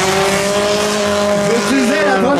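Four-cylinder bazou race cars lap a circuit in Plessisville during a qualifying heat, their engines roaring loud and continuous with pitch rising and falling as they accelerate, alongside faint tire noise.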